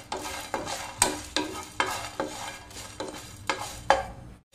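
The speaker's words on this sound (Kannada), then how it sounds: "ಸ್ವಲ್ಪ ನಾನಿಲ್ಲಿ ಮೆಂತ್ಯ ಕಾಳು ಕೂಡ ಹಾಕ್ತೇನೆ. ನೋಡಿ, ಇವಾಗ ಇದನ್ನು ಸ್ವಲ್ಪ ಫ್ರೈ ಮಾಡ್ತೇನೆ." Fenugreek seeds roasting in a pan are stirred with a spatula, giving eight or nine regular scraping strokes over a soft dry sizzle, close up with no voices.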